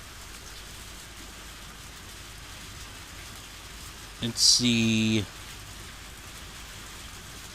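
Steady rain from the video game Higurashi hisses continuously in the background, with a brief musical chime and a short spoken phrase partway through.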